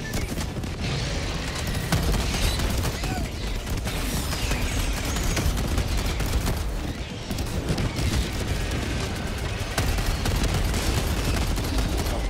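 Dense, continuous gunfire and explosions from the Helldivers 2 video game battle with a machine gun turret, loud rapid bursts layered with booms throughout, no clear talk.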